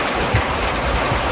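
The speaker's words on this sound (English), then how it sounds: "The rain's lightening up." Steady rain falls outdoors as a dense, even hiss of drops that fills the whole short stretch without pause.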